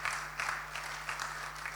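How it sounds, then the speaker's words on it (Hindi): Applause from a church assembly congregation thanking the sari-clad sisters who welcomed guests, a steady wash of many hands clapping throughout with no voices over it. "क्यों नहीं ताली बजाकर उनको धन्यवाद।"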